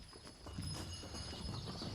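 Donkey hooves clip-clop on the ground on Santorini, a brief string of irregular, fairly close hoof knocks over a soft background, with no talking.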